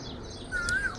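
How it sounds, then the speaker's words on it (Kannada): A koel calls once on a village ground outdoors, a single clear whistled note that rises and holds for a moment over a soft steady background hiss, fairly distant and faint. "ಗ್ರೌಂಡಲ್ಲಿ ನಿಮಗೆ ಕೋಗಿಲೆ ಕೂಗ್ತಾ ಇರೋದು ಕೇಳಿಸ್ತಿರ್ಬೋದು"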